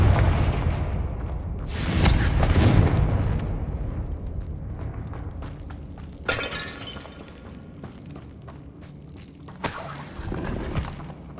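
Confringo blasting spell explosions in the video game Hogwarts Legacy, set in a decayed catacomb: loud shattering blasts recur at intervals, each bursting then fading into rumbling debris and ambient noise.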